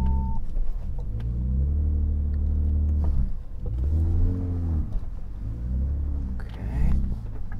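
A Ford F-150 Raptor crawls slowly along a rocky off-road trail, its engine a steady low drone with gentle rises and dips in revs, heard from inside the cab at close range.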